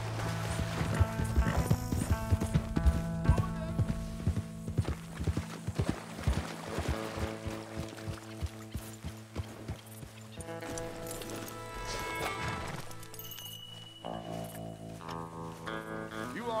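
Hooves clip-clop in a quick galloping rhythm in Red Dead Redemption 2 over steady tonal background music, loud and close throughout.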